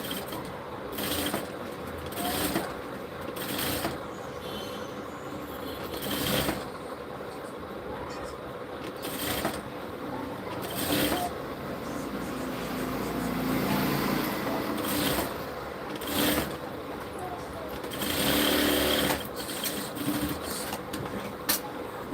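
A sewing machine stitching kurti fabric gives a steady soft mechanical whir with periodic louder clicks and thumps, heard close under a woman explaining the seam.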